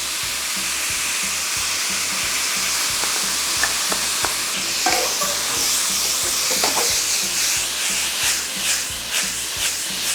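Soy sauce and oyster sauce hit a hot frying pan for tofu with broccoli, giving a loud continuous sizzle and hiss that swells midway and stays strong with some stirring scrapes, no talking.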